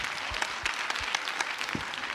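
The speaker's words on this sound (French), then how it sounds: "je crois qu'on peut applaudir" A seated audience at a theatre workshop meeting claps steadily, a full and continuous round of applause with no break.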